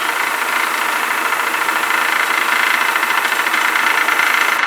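An airbrush spraying yellow fluid acrylic paint over a black canvas gives a loud, steady, close-up whooshing hiss with a motor-like hum that runs unbroken throughout, with no talking.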